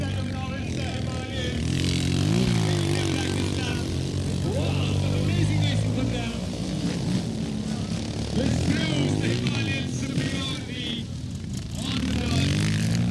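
Dirt track racing motorcycles on a practice test ride at an event, their engines droning and revving continuously at a distance beneath commentators talking over the noise.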